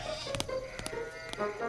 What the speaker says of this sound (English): Hey, sheep! Go to sleep!